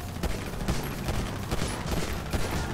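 Rapid automatic gunfire in GTA role-play, a steady rattle of machine-gun bursts at moderate loudness with no talk over it.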